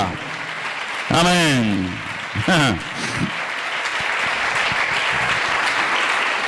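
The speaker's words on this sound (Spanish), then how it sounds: "Dale un fuerte aplauso al Señor en esta tarde." A church congregation breaks into sustained, roomy applause during a worship service, starting after a short spoken exclamation and carrying on steadily to the end, with a voice briefly sounding over the start.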